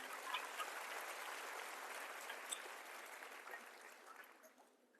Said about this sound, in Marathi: एकदा तुमच्यासाठीच जोरदार टाळ्या द्या.